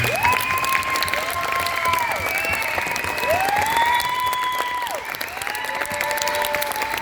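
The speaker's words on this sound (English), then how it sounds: "I know we've done a lot of clapping, but let's do one more" An audience applauds a new women's world record holder in the ultramarathon at a recognition ceremony; steady, dense clapping runs throughout, with sustained gliding tones and voices rising over it.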